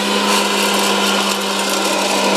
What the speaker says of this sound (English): First, the stirring popper on, and the hot air popper